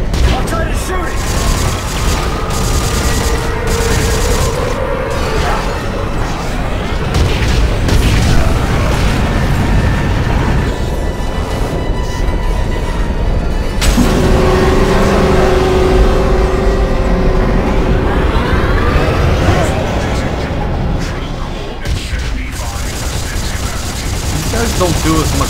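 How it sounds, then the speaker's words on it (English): A giant drill grinds and roars through a Dead Space 3 fight as gunfire and booms pile up, loud and dense for the full stretch, with voices talking over the din. "The drill's trying to kill me!"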